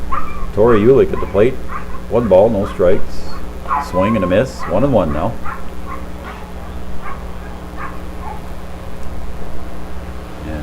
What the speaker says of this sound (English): And dogs, if you can hear them in the background